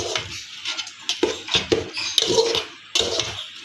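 Food stirred in a cooking pot while making broken rice with Malabar spinach, with metal spoon scrapes and clanks against the pot in quick irregular bursts, close and fairly quiet.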